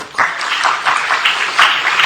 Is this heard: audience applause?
yes